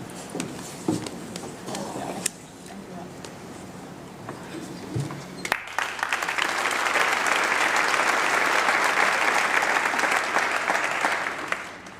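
Audience applause at a university diploma ceremony, a dense, sustained burst of clapping from a large crowd that swells in after a quieter stretch with scattered sounds.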